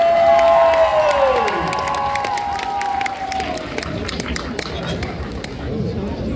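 At a cosplay competition, an audience applauds and cheers a contestant costumed as Ciel from Black Butler, crowd clapping and shouts rising under a sustained tonal sound and music-like swells, with a voice also present and the noise gradually thinning.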